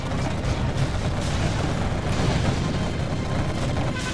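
Quad cannon firing in the Command & Conquer Generals video game, a dense continuous barrage of rapid booming shots and explosions, loud and unbroken.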